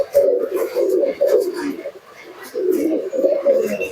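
Jack pigeons at a bird sale coo in steady, close, throaty rolls that repeat with a brief lull in the middle.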